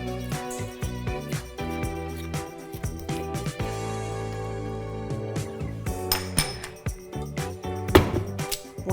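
Strawberry butter cookie dough being given a final stir in a bowl, with a steady run of scraping, knocking and clinking of utensil against the bowl, close and continuous, with no talk.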